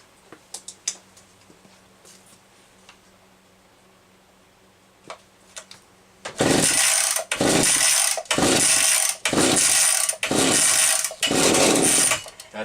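Homelite 360 chainsaw, just reassembled after sitting dry for a long time, pull-started: after a few faint clicks come six loud, rapid recoil-starter pulls, each a harsh burst of cranking, with no engine catching.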